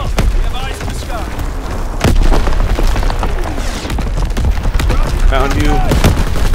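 Heavy artillery barrage in Call of Duty WW2, with deep booms and sharp blasts landing in quick succession around a steady wash of battlefield noise, loud and close, with scattered game voices over it.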